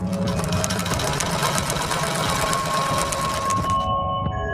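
A sewing machine stitches steadily, its fast rhythmic mechanical whir and clatter loud and continuous before stopping abruptly near the end, used as a sound effect in a horror story with no speech over it.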